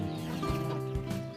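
A large warrior-type mother hen clucks close by in a farmyard, a few short throaty clucks over a steady low background hum.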